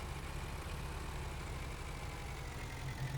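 A steady, low engine idle from a 6810 tractor in Farming Simulator 19 drones on with an even, constant rumble and no changes in pitch or loudness.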